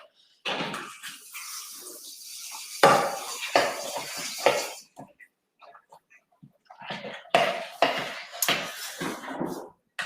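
Spoon clanking and scraping against a pot while stirring a warm Christmas rocky road mixture, irregular metallic knocks and scrapes in bursts with short gaps, close up, with people talking in between.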